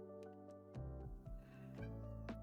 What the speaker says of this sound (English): He's meowing like his life is ending.